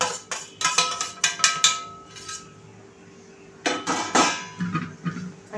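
Spoon clinking and scraping in a bowl while onion, asafoetida and cumin powder are mixed into thalipeeth batter, in two bursts of sharp repeated knocks with a quiet gap between.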